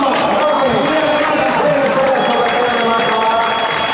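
A crowd applauds after a marathon result, a continuous wash of clapping and murmuring voices at steady loudness, with a commentator talking over it.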